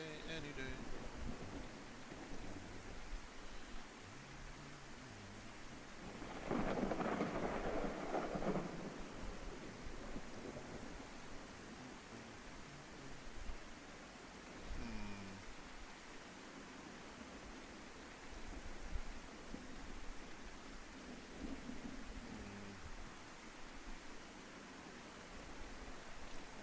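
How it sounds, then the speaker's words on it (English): Steady rainfall hisses throughout in a video game, with a soft rumble of thunder rolling through midway; faint talk is barely present underneath. "It's raining all day."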